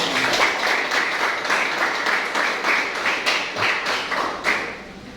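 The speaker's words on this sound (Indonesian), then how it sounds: "Tepuk tangan dulu." Applause from a classroom audience during a teacher-training session in Indonesia, steady dense clapping sustained for several seconds with a few sharper claps standing out, close and fairly loud.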